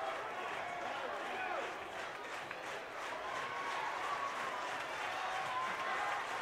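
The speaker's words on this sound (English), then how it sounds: "The Cadets fans all clapping." Fans applaud steadily at a high school volleyball match in a gym, a dense, continuous wash of clapping and crowd noise with a commentator's voice over it.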